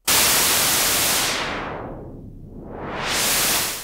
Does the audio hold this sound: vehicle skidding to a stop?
no